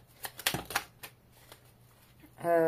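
Tarot cards are shuffled for a reading in quick papery riffles and slides, several bursts in the first second followed by softer handling, with a voice briefly starting up at the end.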